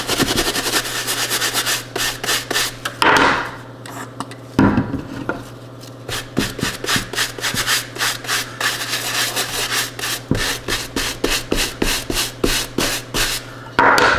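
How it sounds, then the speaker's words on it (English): A brush from a Colorlock shoe cleaning kit scrubs a child's shoe with elastic laces in quick, rhythmic back-and-forth strokes. The bristles give a dry rasp, the strokes come in short bursts with brief pauses, and no one speaks. "you can use this brush on the tongue a little bit better"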